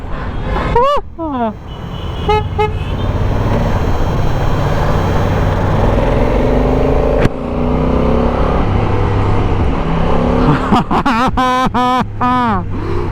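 A Honda Africa Twin motorcycle's twin-cylinder engine drones loudly and steadily throughout with horn-like tones and people talking over it, the rumble swelling slightly near the end.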